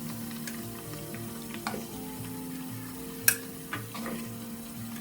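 Patongko dough sticks deep-frying in oil: a faint, low sizzle under a steady hum, with sparse soft ticks and one sharper clack, no talking.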